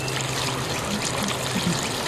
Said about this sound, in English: The trickle of water, from the ground